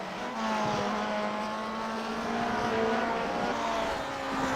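Vintage race cars in Grand Prix Legends lap Lime Rock Park, one overtaking another, with a steady, fairly distant engine drone holding a constant pitch and a faint rise in intensity as they pass.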